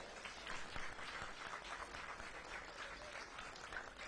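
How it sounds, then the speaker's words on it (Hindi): Audience applause at a Delhi public event with a chief minister, dense and steady but fairly faint and distant, with a crowd murmur underneath throughout. "चाहूंगी एक बार जोरदार तालियां अपने लिए बजाएं"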